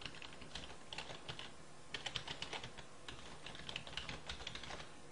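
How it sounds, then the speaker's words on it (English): Someone types a web address on a computer keyboard, a quick, uneven patter of soft key clicks heard faintly and close, with no voices. "we're going to type in our StarCraft URL"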